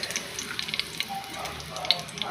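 Whole spices fry in oil and ghee in a pan for chicken biryani, a steady close sizzle with scattered sharp crackles and pops throughout.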